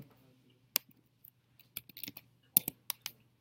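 Scattered keystrokes on a computer keyboard, sparse at first and then coming in quick clusters of clicks, close and fairly crisp, with no talking.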